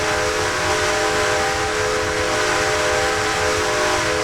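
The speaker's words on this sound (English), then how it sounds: "I toot the old train whistle to announce my departure" A steam locomotive whistle in Red Dead Redemption 2 blows one loud, steady, sustained tone with a hissing edge, running unbroken from start to finish with no talking.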